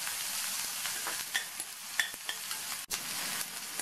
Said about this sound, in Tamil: 1/2 கப் அளவுக்கு பொடியாக கட் பண்ண வெங்காயம், 2 பூண்டு ஸ்லைஸ் பண்ணது, எல்லாத்தையும் வதக்கிக்கலாம்